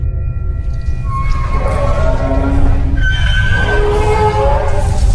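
A distant train horn sounds in a forest in long wavering tones over a steady low rumble, rising and falling across several drawn-out blasts, in a cartoon.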